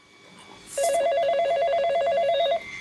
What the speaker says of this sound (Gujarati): બાપુજી નો ફોન આવ્યો.